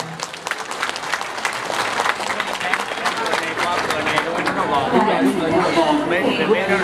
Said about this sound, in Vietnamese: xin quý vị cùng tràng pháo tay cho hoa hậu áo dài miền Bắc